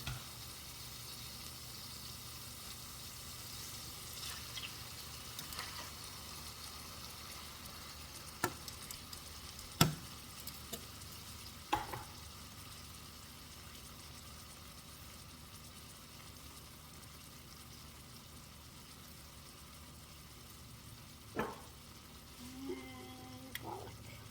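Quiet, steady sizzling of chicken frying in oil, with occasional clinks and scrapes of a utensil against the pan.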